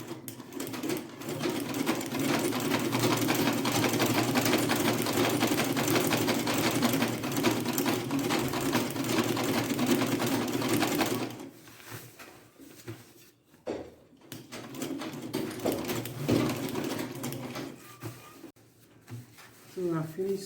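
A sewing machine stitches a ruffle hair bonnet in a fast, steady, close whir for about eleven seconds, then stops, leaving quieter fabric handling and soft clicks.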